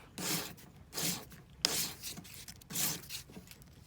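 An emery board rubs back and forth against a cast wedding band in four or five short, close rasping strokes at an even rhythm with brief pauses between them.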